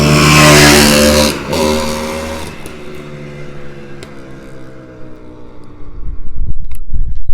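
A Yamaha YZ490 dirt bike, a barn find, revs up close and loud, then its tone drops and settles into a falling idle before the engine picks up again at the end.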